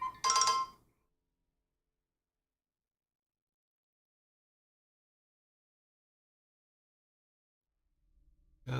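A phone rings from an unknown caller, a single short, loud trill at the start, then long silence before a low thump at the end.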